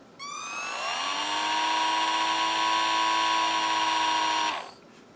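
A handheld Dremel rotary tool spins up with a rising whine, holds a loud, steady high-pitched buzz for several seconds, then winds down and stops.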